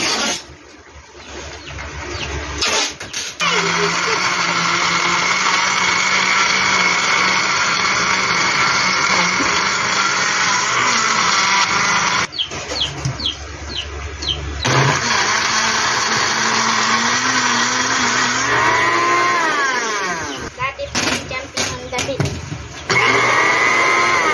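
A blender whirs for long stretches, crushing ice into a mango shake, with brief pauses between runs and someone speaking over the motor.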